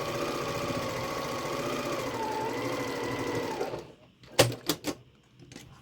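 A sewing machine stitching quilt fabric runs in a steady, fast mechanical whir for several seconds, then stops, followed by a few sharp clicks and clunks nearby.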